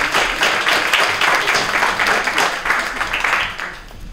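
An audience at a fifth-grade spelling bee applauds the contestants' families, with steady, dense clapping filling the room for several seconds before it begins to thin out.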